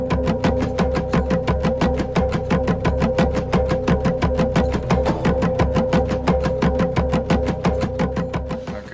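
A played-back recording of a drum sound from Stonehenge beats in a fast, steady pulse of evenly spaced strikes, about four per second, over a sustained low tonal hum, loud and continuous throughout.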